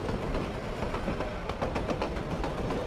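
Rumbling rail noise of an armoured train in the strategy game Revolution Under Siege Gold, a steady loud clatter with rhythmic clicks of wheels over track, heard alone.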